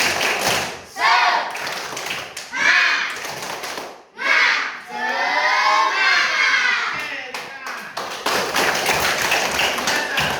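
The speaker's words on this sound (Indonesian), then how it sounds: "Tepuk semangat" A class of children in a classroom does a rhythmic spirit clap, bursts of patterned claps mixed with chanting young voices.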